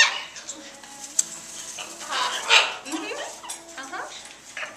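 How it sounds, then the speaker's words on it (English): An Amazon parrot makes rough, dog-like growls and yips in short bursts, close up, with sliding pitches between them. "there's the Amazon growl"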